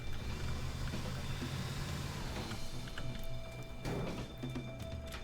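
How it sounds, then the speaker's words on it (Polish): A car engine idles in the Teardown video game, a steady low rumble with no pauses and a faint hum above it, and no voices. "Mogłem zostawić włączony silnik."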